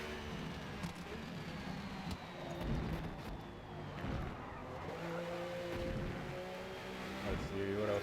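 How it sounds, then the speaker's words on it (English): Race car engine in a racing game during a Daytona 24-hour event, running rough as if damaged, a continuous droning, wavering engine note with shifting pitch under a voice talking throughout. "car doesn't sound super happy either"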